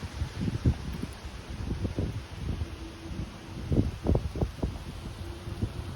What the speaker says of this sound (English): My apologies for the wind.